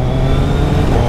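A 2024 Suzuki Hayabusa motorcycle engine running close and loud, holding a steady, dense drone for a brief moment with no audible gear change or pause.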